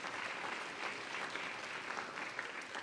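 A Southern African children's parliament audience in Botswana, gathered from nine countries, applauds in a steady, dense wash of clapping that holds at an even level throughout.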